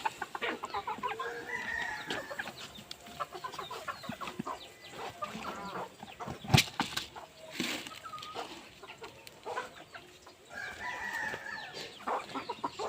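Roosters and hens on a farm, clucking busily with repeated crows rising over the flock, close and lively throughout, with a sharp bang midway.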